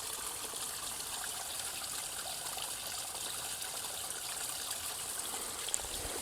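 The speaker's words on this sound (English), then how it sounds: "water flowing here." Water trickles and flows continuously through a small spring creek, a steady, soft hiss-like babble with no pauses, heard close and fairly quiet.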